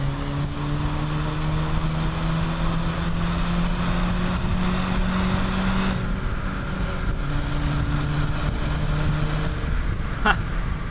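A 2017 Volkswagen Golf R accelerating hard in automatic mode, heard from inside as a steady engine drone rising in pitch with a gear change midway, under road and wind noise.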